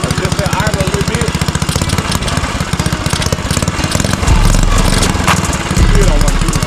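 A Motovox mini bike's small engine idles loud and close with a rapid, chugging pulse that rises into a heavier, rougher throb partway through.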